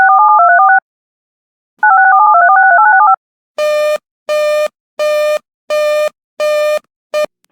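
Emergency Alert System warning tones on a radio station for a severe thunderstorm or tornado warning: loud warbling two-tone bursts, then a series of sharp, evenly spaced beeps.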